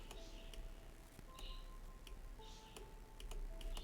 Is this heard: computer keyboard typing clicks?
yes